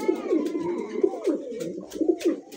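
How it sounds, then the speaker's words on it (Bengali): A pair of black-lace satin pigeons cooing up close in repeated soft, throaty rolling calls, with faint background voices. "এত সুন্দর ওভারলাইট কালার এক জোড়া ব্ল্যাকলেস শার্টিন কবুতর পাইলেই তো একদমই মন শান্তি"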